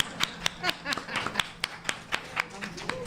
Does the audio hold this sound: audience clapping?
yes